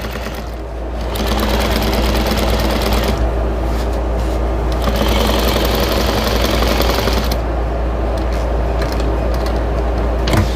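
A sewing machine stitches a quilted chicken potholder, running in a fast, steady mechanical rattle close up, with brief pauses and speed changes between bursts of stitching.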